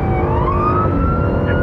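A loud police car siren wails in a steady rising sweep during a highway pursuit, close and continuous with no voices over it.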